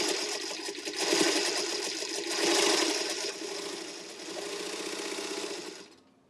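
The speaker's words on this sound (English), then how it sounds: "Girls, we're sewing. We're sewing. There she goes." A Singer Featherweight sewing machine stitches steadily for about six seconds, a continuous fast whirring hum that swells slightly in places and then stops abruptly.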